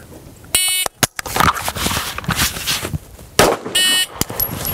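On a pistol-standards course, a shot timer gives a sharp electronic beep, a rifle's dry click follows, then a pistol shot cracks and a second beep sounds, loud and close with brief gaps between.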